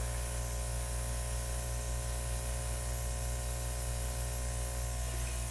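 An airbrush sprays acrylic paint with a steady, close hiss of compressed air that stays constant throughout, with no voices.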